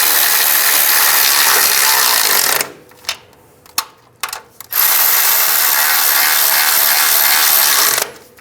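Ratchet tightening the nuts on a CV axle of a 2005-15 Nissan Xterra: two long stretches of steady, fast clicking separated by a pause with a few isolated metallic clicks and clunks, close and loud.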